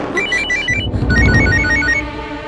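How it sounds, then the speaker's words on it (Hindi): A telephone rings with a repeating electronic trill, loud and close, over a low background rumble. "फोन"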